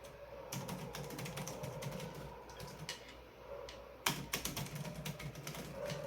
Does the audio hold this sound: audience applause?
no